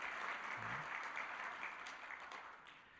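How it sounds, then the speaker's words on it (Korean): A church congregation claps in steady, moderately loud applause that carries on through the whole stretch without a break. "박수로 축하 격려하겠습니다"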